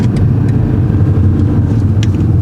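A learner driver's car accelerating steadily, its engine a continuous low rumble and road hum close and loud inside the cabin, with no talk over it.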